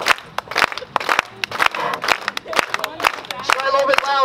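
A beach crowd claps along in a steady rhythm at a strait jacket escape show, the claps sharp and close, with a voice talking loudly over them throughout.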